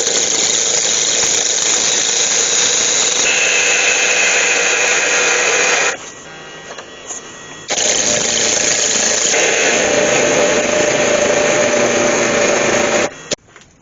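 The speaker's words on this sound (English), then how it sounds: "So first thing I'm going to do is put a tenon on that end." Wood lathe spinning a wood blank while a tenon is cut, a loud steady whirring hum with scraping tool noise, dropping to a quiet lull mid-way before the full cutting sound returns, then stopping abruptly at the end.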